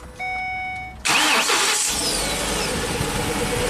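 A Ford E450 bus's V10 engine cranks and catches, a quiet start giving way at about one second to a loud, broadband roar that holds steady to the end.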